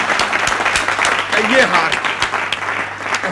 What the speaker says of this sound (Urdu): تالیاں. تالیاں.